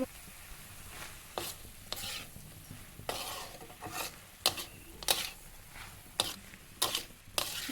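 Sweet corn stir-fried with cumin and chilli powder in a pan makes a close, soft sizzle, broken every second or so by sharp scraping strokes of a spatula as it is turned and stirred. No one speaks.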